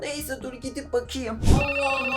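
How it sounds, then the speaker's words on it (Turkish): A telephone ringing nearby with a repeating electronic ringtone pattern, heard under someone speaking in Turkish, followed by a thump and continued ringing. "Telefon çalıyor."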